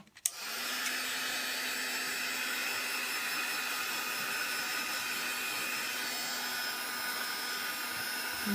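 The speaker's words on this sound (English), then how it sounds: "I'm going to give this a quick dry." A heat tool blows a steady, loud whooshing hum for several seconds while drying mixed media artwork, starting after a brief click and staying constant and close, with no voices.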